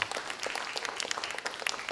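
Audience clapping for a young child preacher at a preaching competition, a moderate crowd of distinct, sharp hand claps in a lively, uneven patter at mid distance.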